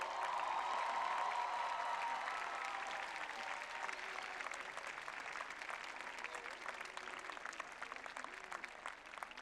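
A large crowd at the 155th commencement ceremony applauds graduates' families and friends, a sustained, even roar of clapping that eases slightly toward the end, heard from a distance in a big space.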